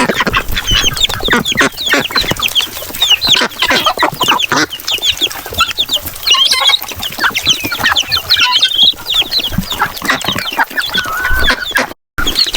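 Native chickens clucking continuously in a noisy, busy flock close by, with many overlapping short calls and some quack-like notes, loud throughout with no talking.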